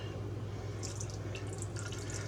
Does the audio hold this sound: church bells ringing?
no